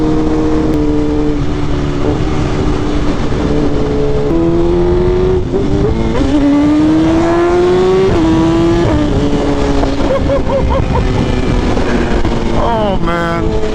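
A BMW M1000RR motorcycle engine accelerates hard through several gears, its loud rising whine climbing in pitch, dropping at each shift and climbing again, close and continuous with a voice talking over it.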